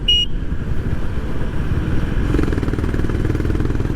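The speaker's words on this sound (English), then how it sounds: "I'm going to give you my experience of this bike on highway, and I'd say the bike is performing really great" Honda CB350RS motorcycle cruising on a highway, a steady loud engine drone with heavy wind rumble throughout, a brief high beep at the start and the noise swelling slightly past the midpoint.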